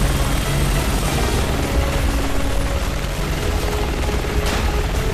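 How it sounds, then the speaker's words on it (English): Helicopter in the video game Resident Evil 6 during a fight, a loud continuous rotor and engine drone filling the whole stretch, with low rumbling and blasts mixed in and no talk. "he's shotgunning the helicopter and making it rock"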